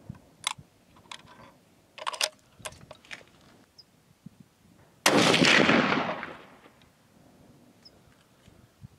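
A .30-06 rifle firing a cast, powder-coated bullet lets off one loud blast that booms and rolls away over several seconds outdoors, following a run of small clicks and handling noises.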